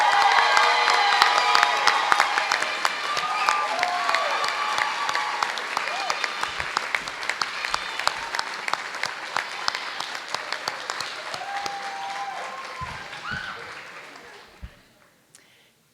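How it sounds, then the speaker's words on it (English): Audience at a school board meeting applauds a high school band director, sustained clapping with some cheering and whoops that fades out near the end. "So, round of applause"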